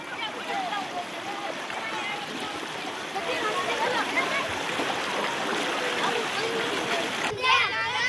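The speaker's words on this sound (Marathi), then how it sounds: "ही नवनाथ नदी आहे" Water of the Navnath river near Gangalwadi in Aundha Nagnath rushes and splashes steadily, a broad nearby flowing wash heard under a voice talking throughout.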